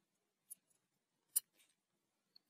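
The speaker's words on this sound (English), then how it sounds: "And then cut your thread." Scissors snip beading thread on a superduo seed-bead bracelet, two short crisp cuts a second apart followed by a faint click, close by and quiet with no talking.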